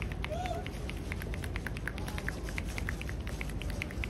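Rapid, steady tapping of hands on very stiff shoulders during a shoulder massage, dozens of light percussive pats in an even rhythm over a constant low background hum.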